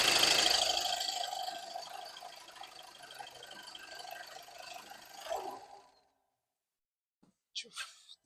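Volkswagen Golf GTD diesel engine heard up close as the throttle closes, a broadband whooshing intake and ratcheting flutter that decays over about five seconds into silence, followed by a few faint brief clicks.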